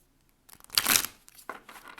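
Tarot cards are shuffled once by hand, giving a short, close burst of papery riffling and crinkling that rises out of near silence, peaks, then tails off into a few softer flicks.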